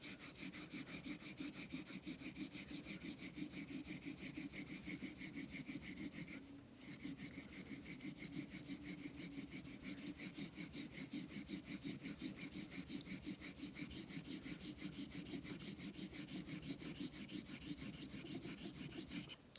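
A straight razor honed on a Naniwa Super Stone during bevel setting, a close, quiet, rhythmic rasping of rapid one-direction strokes repeating steadily, broken by one brief pause.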